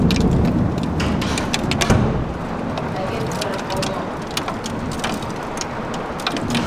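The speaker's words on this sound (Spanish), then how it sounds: "¡Buah! Está granizando que flipas." Hail falling hard on a mountain walk near Barcelona, a dense, steady patter and hiss of ice pellets continuing throughout at close range, with some talk over it.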